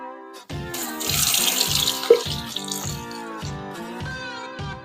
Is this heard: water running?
yes